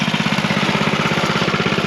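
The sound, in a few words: dirt bike engine running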